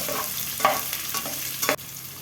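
Chopped onions fry in a pan for rava upma, a steady close sizzle with a few brief louder scrapes of stirring spread across the clip, no voices.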